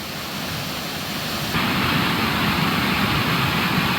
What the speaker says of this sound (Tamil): தேனி கும்பக்கரை அருவியில் வெள்ளப்பெருக்கு